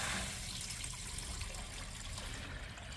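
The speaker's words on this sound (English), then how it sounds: "we turn on the water" Water running at low pressure into a drained RV holding tank, a steady faint rushing and trickling stream throughout.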